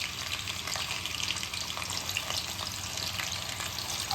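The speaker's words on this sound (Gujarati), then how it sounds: "બટાકા એડ કરીશું કાપેલા." Sliced potatoes frying in hot oil while cooking masoor pulao, a steady close sizzle with faint stirring scrapes throughout, no talking.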